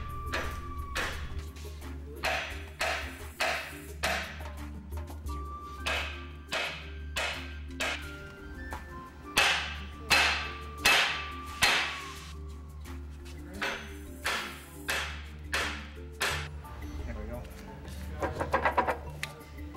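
Repeated sharp metallic ball peen hammer strikes on a Toyota 4x4 solid front axle's upper knuckle bearing cap, roughly a dozen irregular blows close by, ringing over a low steady hum, with a quick rattling burst near the end.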